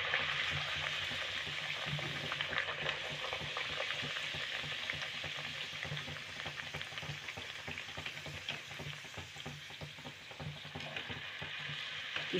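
Pea-stuffed kachori deep frying in hot oil, one at a time, giving a steady, dense sizzle and crackle that holds fairly evenly at moderate loudness with no talk over it.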